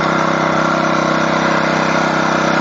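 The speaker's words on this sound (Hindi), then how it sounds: "ये मशीन चल रही थी निराई गुड़ाई करने की होंडा की" A Honda F300 power weeder with a Honda GX engine runs steadily at close range, a loud, even, buzzing small-engine drone with no talking.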